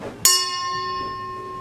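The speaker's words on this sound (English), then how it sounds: "every time the glass is run, we're going to ring the ship's bell" A ship's bell at Cabrillo National Monument is struck once, a sharp clang followed by a long clear metallic ring that slowly fades, with no talking.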